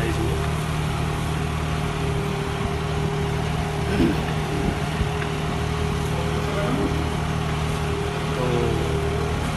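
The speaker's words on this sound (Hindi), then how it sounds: "ट्रैक्टर भी बढ़िया काम कर रहा है और साथ में इंप्लीमेंट भी काफ़ी अच्छे से चल रहा है" A tractor running with a subsidised farm implement attached, its steady low engine drone continuous and fairly loud throughout, with faint voices in the background.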